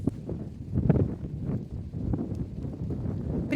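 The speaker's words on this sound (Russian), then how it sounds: "По-прежнему очень сильный ветер." Strong wind blows across a wide open outdoor space on a cold winter hike, a low, uneven rumbling buffet against the microphone with gusty swells and faint rustling.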